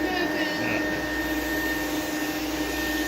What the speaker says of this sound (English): You hear that motor starting to whine?